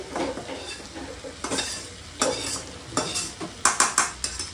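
Small fish fry in a pan with a close sizzle, broken by a series of sharp scraping stirs and utensil clatters against the pan that quicken toward the end, and no voices.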